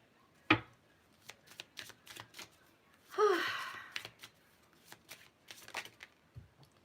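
A deck of tarot cards dropped onto the floor, heard as a soft, papery clatter lasting about a second, alongside other faint shuffling and handling noises in a quiet room.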